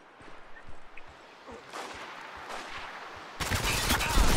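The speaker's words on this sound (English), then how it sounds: "Whoa, someone shot me" Gunfire in the Spec Ops: The Line multiplayer mode, a sandy desert map near a bar, with scattered faint shots early building into a dense, louder burst of rapid fire at the end.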